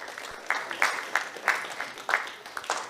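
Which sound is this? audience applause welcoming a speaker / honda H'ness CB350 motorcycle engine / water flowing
audience applause welcoming a speaker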